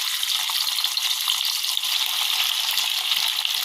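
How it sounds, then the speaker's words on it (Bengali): Cut paneer pieces fry in oil in a wok, giving a close, steady, bright sizzle with faint crackles throughout and no talking. "এবার এই যে পনিরগুলো কেটে রেখেছিলাম ওইগুলো ভেজে নেব"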